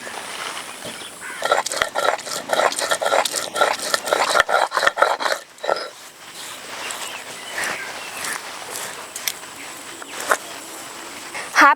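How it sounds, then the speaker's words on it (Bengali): Ginger and garlic are ground into paste by hand, giving repeated rough rasping and rubbing strokes in an irregular rhythm. The strokes are close and fairly loud at first, then softer scraping follows. "এবার আদা রসুন বেটে নেব।"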